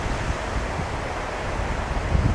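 Steady broadband roar of Pacific surf and gusting wind on the Oregon coast at Cape Blanco, with low rumbling buffets against the microphone throughout.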